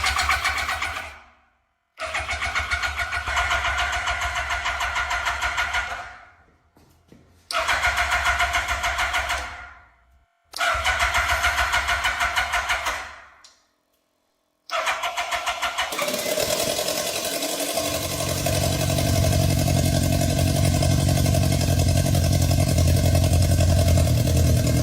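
A Yamaha R1 sport motorcycle, restored from a wreck with fresh oil and a gasoline bottle attached, cranks in four short, close starter bursts with pauses, then catches and settles into a steady, loud idle.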